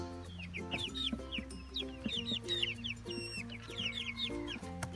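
A flock of free-ranging chickens and hens clucks continuously near the listener, busy overlapping chatter with a few rising squawks and no human voices.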